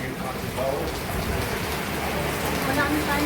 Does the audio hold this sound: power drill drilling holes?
no